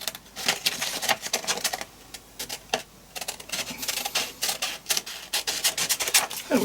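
Scissors snipping out a paper mask for a mixed-media art tag, a quick, close series of crisp cuts and rustling paper with brief gaps.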